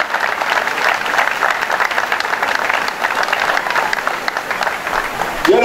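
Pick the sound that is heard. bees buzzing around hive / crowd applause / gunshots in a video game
crowd applause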